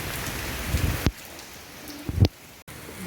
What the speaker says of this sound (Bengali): দেখুন কত বৃষ্টি পড়ছে আজকে, প্রচণ্ড বৃষ্টি।